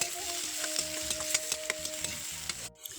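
Tomato pieces fry with a steady sizzle in a hot pan while a utensil stirs them, giving scraping clinks and soft knocks at irregular intervals; the sizzling stays continuous and fairly loud before dropping out briefly near the end.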